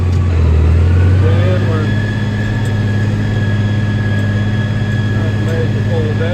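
A tractor pulling a pan for mound building, with a push dozer, runs in real low range through wet material, a loud steady low engine drone with a faint whine throughout while someone speaks briefly over it.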